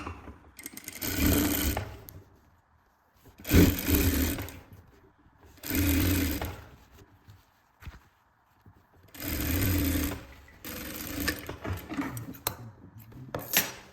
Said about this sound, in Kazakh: Енді ары қарай мына қабырға тігістерін бір-біріне қосып тігіп шығамын.